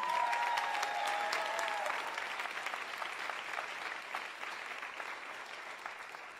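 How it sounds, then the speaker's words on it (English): A large audience at a live criminal justice event in Los Angeles applauds, a loud, dense wash of clapping that starts at full strength and slowly tapers, with a faint tone or whistle near the beginning. "Let's give them a round of applause, please."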